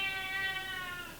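A single drawn-out cat meow, clear and close, slowly fading at the end.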